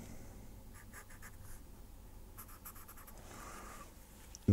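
A pen scratches over paper while Star Wars figures are drawn, giving soft, faint strokes in short bursts against a low background hum.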